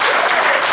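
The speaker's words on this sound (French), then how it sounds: "Moi, j'aimerais quand même que vous puissiez acclamer." Church congregation applauding during a Sunday service, a dense, steady wash of clapping filling the whole moment without pause.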